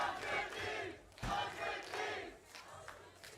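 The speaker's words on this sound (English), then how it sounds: "Listen to the crowd behind 100 Thieves." An esports watch-party crowd roars and yells in support of 100 Thieves during a match against LOUD, swelling in loud bursts of shouting from many voices.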